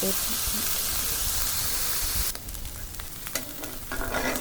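Chili sizzles and hisses loudly in a pan of hot oil, a continuous close fry that thins out partway through, followed by some stirring clatter.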